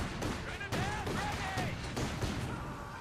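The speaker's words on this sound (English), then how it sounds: "opening up with its 37mm flak on the Russian advancing infantry" A 37mm flak gun firing on advancing infantry in the Company of Heroes 2 strategy game, a burst of repeated heavy booming shots mixed with battle noise, with a voice talking over the action.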